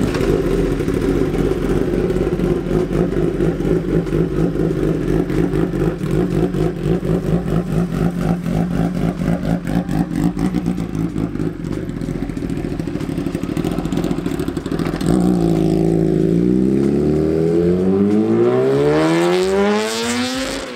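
A 2016 ZX10R sport motorcycle with a full titanium SC-Project exhaust pulling away, its loud engine burbling and revving up close, then rising in pitch as it accelerates off.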